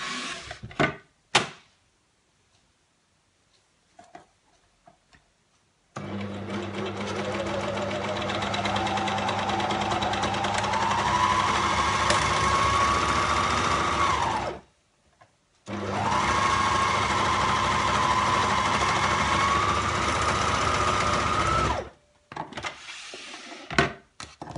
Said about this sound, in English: I'm just going to run them through my serger.